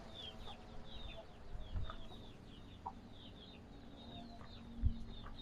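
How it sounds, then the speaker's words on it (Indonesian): Village chickens kept by local residents cluck faintly in the distance, mixed with a few bird calls over a quiet outdoor background, with a couple of soft thumps nearby. "Ada banyak ayam-ayam di sini punya warga setempat."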